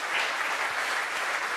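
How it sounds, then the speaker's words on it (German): Short burst of audience applause on a sports talk show, a dense, even patter of many hands clapping, moderately loud and heard alone. "auch da einen großen Applaus"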